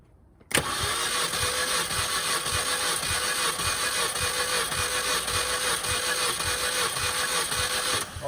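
A 2005 Mini Cooper S engine cranks steadily on the starter through a bypass during a compression test: a loud, even chugging rhythm that starts abruptly and continues without the engine catching.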